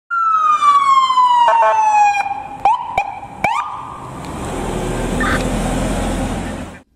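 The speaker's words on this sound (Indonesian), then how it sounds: "Ada mobil ambulan." Toy ambulance siren wailing in a falling electronic tone, interrupted by sharp clicks and knocks of handling, then fading into a rushing hiss of noise as the siren stops.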